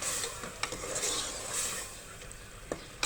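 Rajma masala being stirred and fried in oil in a pan, a steady soft sizzle with scraping strokes and a few sharp utensil clicks against the pot, close and moderately quiet.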